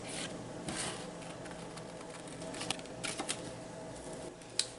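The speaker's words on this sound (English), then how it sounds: "let's go ahead and fussy cut it out" Scissors fussy-cut a paper craft piece around an embossed Easter bunny shape, giving soft scattered snips and rustling paper handling at close range with no talking.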